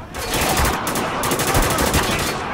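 Sustained machine gun fire in the shooter Spec Ops: The Line, with dense rapid bursts running unbroken and loud throughout, close and overlapping, with no talk over it.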